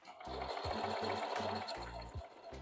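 A Singer 4423 heavy-duty sewing machine stitches a buttonhole in a rapid, rhythmic, mechanical whir. The pulses are close and steady, with faint talk underneath.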